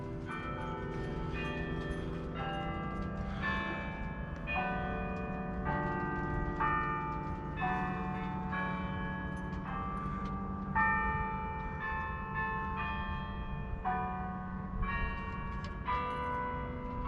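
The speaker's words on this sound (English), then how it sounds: "That bell tower over there houses several bells inside of it, and it's actually a musical instrument called a carillon." Carillon bells ring from a bell tower along a lakeside trail at Furman University, a sequence of clear pitched strikes forming a slow melody, each note ringing and overlapping the next, loud and steady with no talk.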